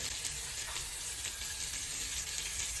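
Pork chops frying in a stainless steel pan, a steady close hiss and crackle of sizzling fat that holds evenly through the short stretch with no voices.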